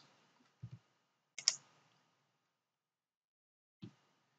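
Computer mouse clicks sound in a quiet room, a soft double click, a sharper single click a moment later, then one more isolated click near the end.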